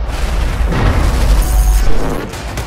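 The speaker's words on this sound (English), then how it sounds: "Attacking the building's support pillars at the ground level with heavy bombardment will eventually lead to the building's collapse." Skyscraper in Battlefield 4 giving way under heavy bombardment of its ground-level support pillars, a loud sustained booming rumble with crashing bursts rolling on for several seconds.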